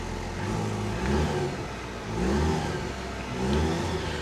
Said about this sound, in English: The engine sounds like a little tractor engine.